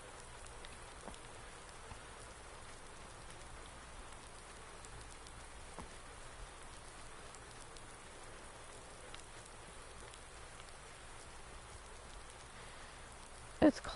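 Steady rain falling in the Farming Simulator 19 game on PS4, a soft continuous hiss lasting throughout at low level, with no talk and one brief sharp sound near the end.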